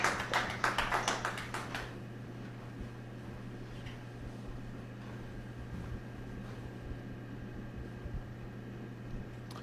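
A short burst of clapping from a small group fades out within two seconds, leaving a steady electrical hum and faint room noise.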